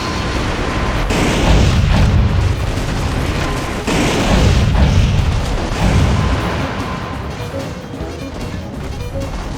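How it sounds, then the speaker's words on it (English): Missile explosions in the video game Metal Wolf Chaos XD, heavy booming blasts that roll and overlap in a dense, loud barrage with rumbling low ends, no talk. "The missiles are airborne."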